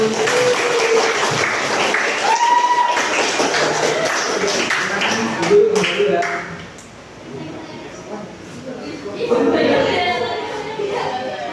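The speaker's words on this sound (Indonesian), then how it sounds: "Silakan berikan aplaus pada kelompok satu." A classroom of students applauding a group presentation, a continuous wash of clapping at full volume that dips briefly near the end and then swells again, with voices and chatter mixed in.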